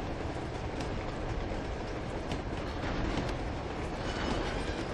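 A train rolls past in the video game Uncharted 2: Among Thieves, a steady loud rumble of wheels and rail clatter with faint clicks running the whole time, no voices over it.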